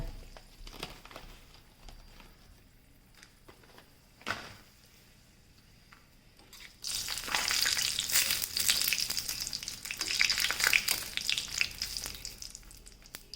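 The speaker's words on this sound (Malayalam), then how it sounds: "പപ്പടം വറുത്ത് മാറ്റി 2 കൊണ്ടാട്ടം കൂടെ വറക്കാം കേട്ടോ." Oil crackles and sizzles loudly and steadily as dried chillies fry, following a quieter stretch of scattered clicks and light kitchen noise.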